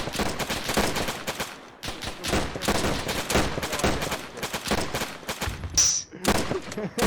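Gunfire rattles through a Sicily Campaign training battle in the video game Arma, a dense, nonstop mix of rapid shots and bursts that stays loud for the whole seven seconds.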